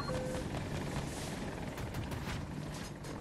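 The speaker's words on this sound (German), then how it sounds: "Heli hinter uns." A video game helicopter on the Breakaway map flies behind the player, a loud, steady rotor roar with faint gunfire mixed in.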